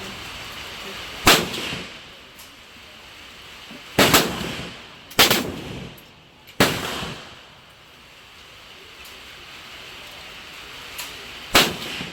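Military weapons fired at a shooting range at the Cu Chi Tunnels in Vietnam: five sharp, loud single gunshots spaced a few seconds apart, each with a short echoing tail over steady outdoor background.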